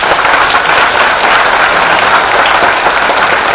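A theatre audience gives loud, sustained applause after a short Marathi stage play, many hands clapping in a thick, even roar that fills the room without pause.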